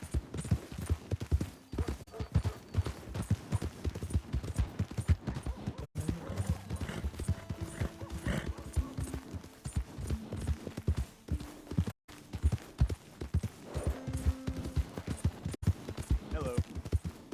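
A horse's hooves in Red Dead Redemption 2 clip-clop in a quick, steady rhythm throughout, with brief voices and occasional tones sounding over the trotting.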